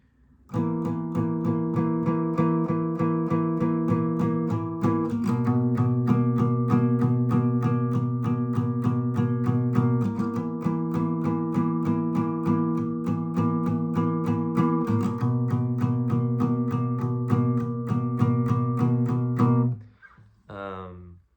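An electric guitar plays a repeating riff of strummed chords with notes bent up into an octave, from My Bloody Valentine's "Cupid Come", changing in regular phrases for about twenty seconds before stopping.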